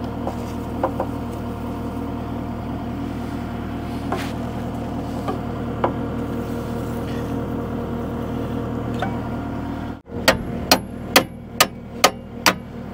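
Steel hammer blows ring out against stuck excavator bucket pins, six sharp metallic strikes in quick, even rhythm near the end, following a steady engine idle drone with a few lighter knocks earlier.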